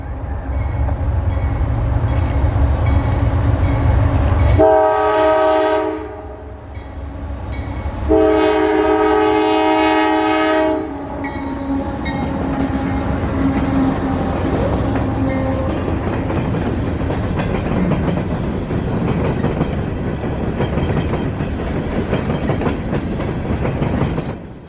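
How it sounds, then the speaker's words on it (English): A freight train of empty gypsum hoppers passes near a crossing, opening with a deep engine rumble and two long blasts of the horn, then a steady rolling clatter of cars on the rails. "B489 is an as-needed run of empty gypsum hoppers out of Bridgeport"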